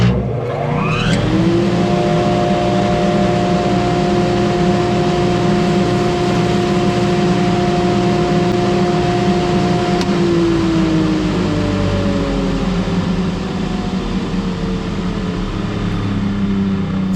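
A newly installed 220V dust collector in a basement workshop spins up with a rising whine, then settles into a loud, steady motor roar with airflow rush that runs throughout.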